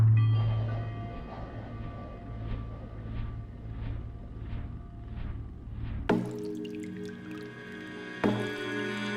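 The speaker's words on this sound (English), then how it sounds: "I can hear drips and drops." Steady water drips fall in an even rhythm, about two per second, over a low ambient hum at an outdoor performance location, followed by bright ringing musical chimes.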